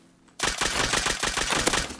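Nail gun in the game Rust fires a fast, steady burst of sharp, clattering shots that starts abruptly and continues without pause, loud and close.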